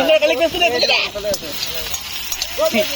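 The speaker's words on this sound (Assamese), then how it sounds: "গাহৰি কেৰাহীত নমত নমাই দি" Pork frying in a hot wok gives a steady hiss and crackle beneath people chatting nearby at close range, with voices dominating over the sizzle.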